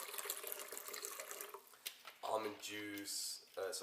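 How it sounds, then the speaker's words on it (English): Water pours from a container into a blender for a green smoothie, a short bubbling, gurgling stream heard in the second half after quieter handling sounds, fairly faint and close. "let's start by pouring in 2 cups or around half a liter of water"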